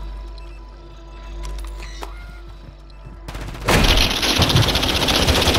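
Heavy gunfire in the shooter Warzone bursts in loudly after a low rumbling, quieter stretch with a few faint cracks, then continues as a dense, sustained volley of close shots.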